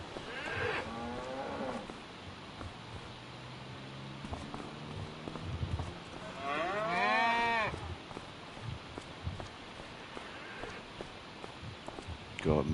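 Cattle mooing inside a large cow shed in the Farming Simulator 25 video game, several drawn-out moos at moderate distance, the loudest near the middle, with someone talking over parts of it.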